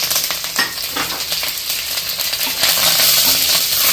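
Mustard seeds, fenugreek, curry leaves and dried red chillies frying in hot sesame oil, a loud dense crackling sizzle that swells toward the end, close up, with no voices.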